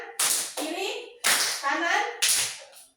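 Hands clap in a right-left classroom clapping game, four sharp claps spaced about a second apart, close and clear, with children's voices faintly mixed in.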